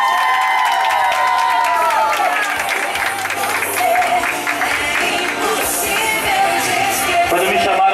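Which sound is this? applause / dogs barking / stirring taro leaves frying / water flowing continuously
applause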